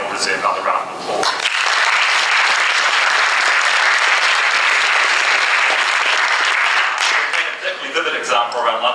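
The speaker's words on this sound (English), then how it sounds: "I think they all deserve another round of applause" An audience at a debate grand final in New Zealand bursts into loud, sustained applause that swells quickly and holds for several seconds before tapering off, with a voice speaking briefly just before it.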